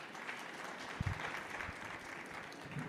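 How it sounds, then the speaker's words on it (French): Audience applauding participants at the end of a French health conference session, soft, somewhat distant clapping from a room with a brief louder thump partway through. "Je vous propose d'applaudir nos participants"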